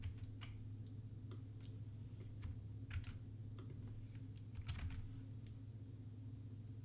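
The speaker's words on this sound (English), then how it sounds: "Try clicking on line 1 and typing" Quiet, irregular clicks of typing on a computer keyboard, scattered keystrokes over a low steady hum, with no voices.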